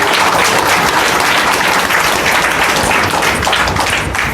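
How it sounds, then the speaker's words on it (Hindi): A church congregation claps their hands in thanks to God, dense sustained applause from many people filling the room evenly throughout, with no voices standing out. "ताली बजा के परमेश्वर को धन्यवाद।"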